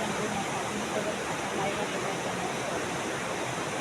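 Steady, loud rushing of river water flowing beside a temple fills the scene, a constant broadband wash with no pauses.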